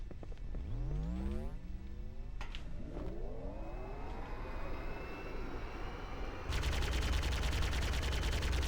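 Ghost vehicle in a Halo mod video game, with rising and falling whining engine tones and bursts of weapon fire, ending in a loud, rapid, continuous stream of shots.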